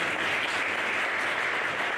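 Brief, steady applause from an audience welcoming a speaker at an academic lecture, a continuous even patter of clapping.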